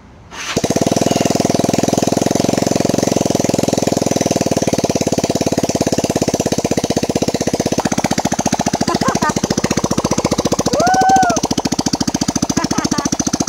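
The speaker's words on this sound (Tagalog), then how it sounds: "napaandar ko ulit yung aking motor" A Yamaha Cygnus 125 scooter engine starts up after a top-end overhaul and runs loudly, with a rapid, steady putter that continues without letup, close by, with a brief voice near the end.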